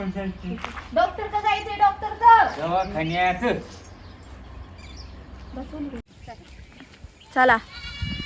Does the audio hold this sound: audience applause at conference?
no